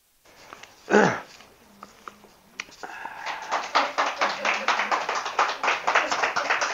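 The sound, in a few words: audience clapping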